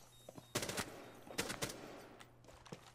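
Short bursts of gunfire from Rainbow Six Siege, several separate volleys of rapid shots with brief pauses between them, loud and close over a low background hum.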